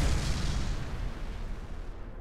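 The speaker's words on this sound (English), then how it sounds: "Those explosions, man." A deep, booming explosion in the space-combat video game Everspace, with a heavy low rumble that decays over about two seconds.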